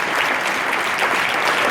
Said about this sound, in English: if you would give a round of applause to John and Jackie Dixon there.